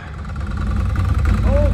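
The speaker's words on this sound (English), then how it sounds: "it's idling, and it's not trying to spin the belt at an idle" A 2019 Can-Am Outlander 1000R ATV engine idling during clutch tuning, a steady low, close rumble that lasts only a moment.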